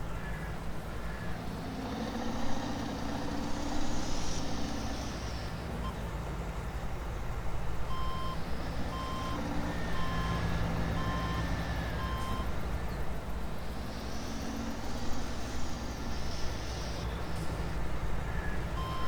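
A truck reverses in Farming Simulator 22 at a construction and mining site, its backup beeps pulsing in regular spaced runs over a constant engine drone, with people talking throughout.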